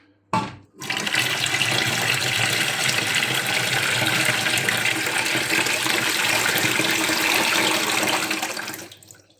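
Water pours steadily out of a pressure cooker pot through a clip-on strainer from AliExpress, leaving tomatoes behind; a continuous, close rushing splash after a brief start, fading out at the end.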